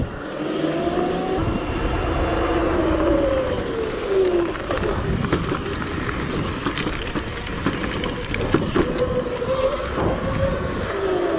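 Razor MX650 electric dirt bike doing a long burnout: a continuous rising and falling motor whine over a dense, steady rush of spinning-tire noise, close and loud throughout with no talk.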